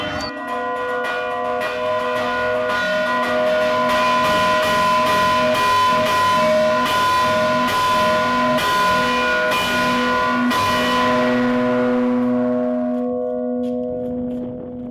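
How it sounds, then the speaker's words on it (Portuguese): Church bells in the colonial town of Ouro Preto, Brazil, struck in a steady run of strong resonant clangs that stop and leave a long shimmering decay fading out, no voices. "O sino é uma voz."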